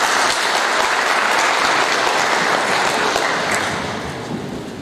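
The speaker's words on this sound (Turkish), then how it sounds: "Onlara buradan kocaman bir alkış istiyorum." Audience applause at a sports club meeting where a new club president was elected, a thick continuous burst of many hands clapping that fades slightly toward the end.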